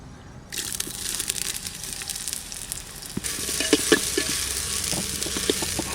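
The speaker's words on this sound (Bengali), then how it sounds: "হাঁড়ি গরম হয়ে গেছে, এবার সর্ষের তেল দিয়ে দেবো।" Onions hit hot mustard oil in a pot for a duck curry in a Santali village kitchen, bursting into a steady close sizzle with scraping stirs and crackles, no voices.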